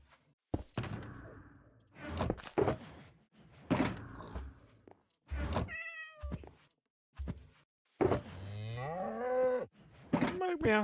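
Cows mooing in Minecraft, several drawn-out lowing calls spread across the stretch with short gaps, close, interleaved with people talking.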